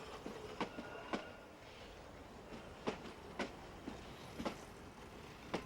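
Kenya Railway safari train rolling along the line, steady rumble broken by sharp, irregularly spaced wheel clicks over rail joints, fairly close, with no voices.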